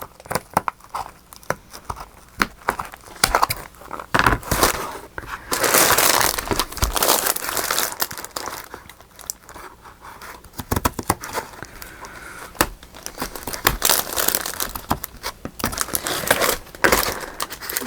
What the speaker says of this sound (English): Definitely not the best scissors for the job here.